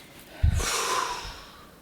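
A single deep breath is drawn in sharply through the nose and then let out in a long, airy exhale during a relaxation exercise, close and clear with no talking.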